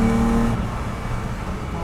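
Datsun 280Z hot rod engine running while driving, a loud steady drone with a strong low tone that eases slightly after the first half-second, continuous throughout.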